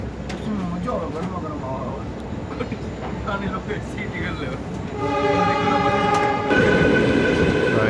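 The diesel-hauled 12467 Leelan Express rumbles past nearby with a steady mechanical roar, building toward the end as the diesel engine's tonal drone rises; a voice talks over it.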